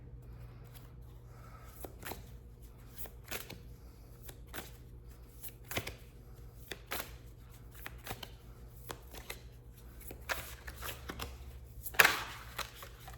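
A Crystals oracle card deck, the Stone deck, is shuffled close up with soft, repeated riffling flicks at an irregular pace over a faint steady hum, and one sharper snap near the end.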